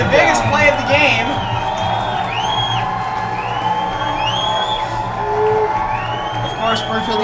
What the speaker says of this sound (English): Trying to get this crowd loud for what is, to this point, the biggest play of the game.